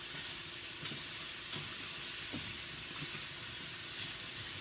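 Mushrooms frying in a pan until their moisture cooks off, giving a constant close hiss and sizzle with a few faint stirring clicks and no speech.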